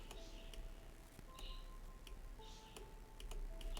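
Sparse, faint clicks ring out at uneven intervals against a steady low hum, with a few brief soft rustles between them. No one speaks.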